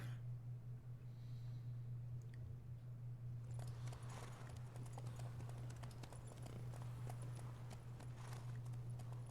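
Horse hooves clip-clop in The Witcher 3, a steady walking rhythm of soft hoof steps over a constant low hum, growing busier and brighter partway through as more ambient activity joins in.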